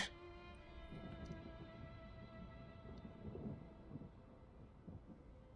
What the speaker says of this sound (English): it really sounds like they recorded real thunder.